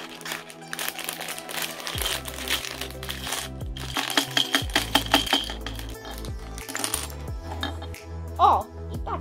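Plastic building bricks from a Minecraft-style knockoff set rattle and clatter as the box is opened, with crinkling packaging and a few bursts of clicking pieces. There is also some low rumbling handling noise.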